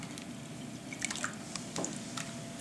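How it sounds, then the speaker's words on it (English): Creamy soup made with half and half is stirred in a pot, giving faint, soft squishing and dripping with a few light taps against the pot. "So you just keep mixing it or keep stirring it, because we don't want it to stick, we don't want it to burn."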